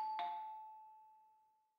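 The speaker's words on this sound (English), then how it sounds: "And all of a sudden the doorbell rang." A single doorbell chime rings out once at a home on a chilly evening, a bright sustained tone that decays slowly over nearly two seconds with no other sound.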